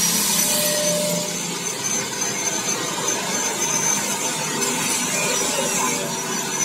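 A tire buffing machine for scraping truck, car and motorcycle tires runs steadily, a loud, dense, continuous grinding roar with a rough abrasive texture and no pauses, close to the listener.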